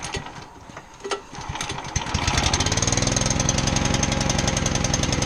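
A small engine on a gin pole truck build sputters through a few cranks, then catches and settles into a loud, steady, fast chugging run close by, with no talking.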